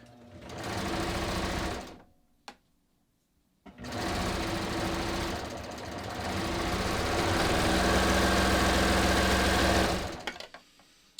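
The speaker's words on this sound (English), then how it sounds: "I'm just going to finish serging" A serger overlocks the edge of a fabric seam, running in long, loud, steady motorized bursts separated by a brief pause.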